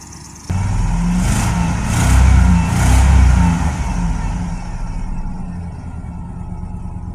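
A 2000 GM K2500 pickup's gasoline engine starts abruptly and runs close by, swelling through a couple of revs before settling into a steady idle, with faint talking in the background.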